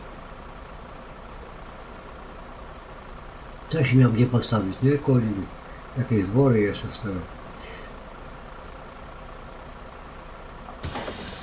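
A city bus on line 900 hums with a steady low engine drone throughout, someone talking over it in the middle and a short louder burst of noise at the very end.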